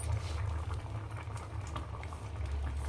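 A pot of rice and flour boils while sangati cooks, a close, steady bubbling and gurgling with a low rumble underneath and no talking.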